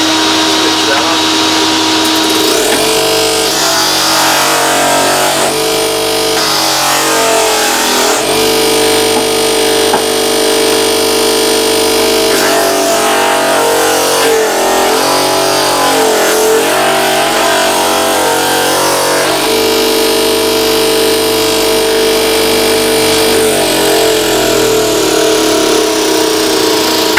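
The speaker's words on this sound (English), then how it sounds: "I'll switch the motor." A combination face and drum sander's electric motor spins up and runs steadily, a loud close whining hum with harmonic tones that waver as the shaft turns, continuous for the whole stretch.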